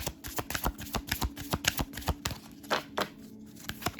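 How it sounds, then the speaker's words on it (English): A deck of oracle cards is shuffled by hand in a quick, steady run of crisp riffling flutters and soft slaps that repeat nearly a dozen times, close and clear, with no talking. "I'm feeling to shuffle again."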